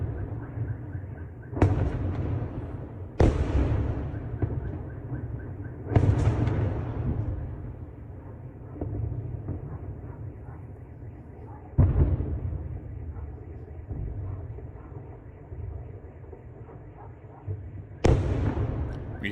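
Drone and missile impacts at Sevastopol port, a series of about six separate heavy blasts at irregular intervals, each a sharp boom trailing into low rumble over continuous background noise.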